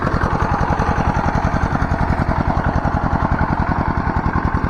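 A steady, loud tractor engine chugs with a fast, even pulse throughout, close by and running continuously with no voices.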